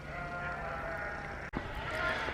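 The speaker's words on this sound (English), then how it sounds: "excuse the noise, farmers rounding up sheep" Sheep bleating outdoors while farmers round up the flock, a fairly faint, distant chorus of overlapping bleats over a steady background hum, with one brief dip midway.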